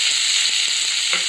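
Two large finely chopped onions frying in a pan with cumin seeds, a steady loud close sizzle with faint soft stirring taps underneath.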